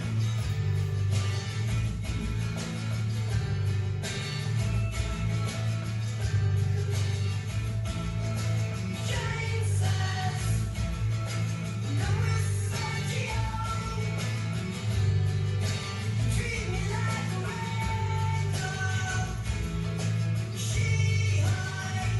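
Recorded rock song played back, a dense band mix of distorted guitars, bass and drums going on continuously at moderate volume with no talking over it.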